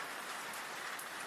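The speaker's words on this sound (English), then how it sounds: "The rain came down in heavy, icy sheets, turning the ground to blackened mud" Heavy rain pours down in dense icy sheets onto muddy ground, a steady, close hiss with no other sounds or voices.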